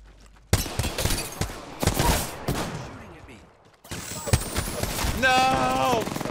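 Shotgun fire in a video game arrives as bursts of close, punchy blasts, some in fast succession, mixed with other game effects while players talk excitedly over the action.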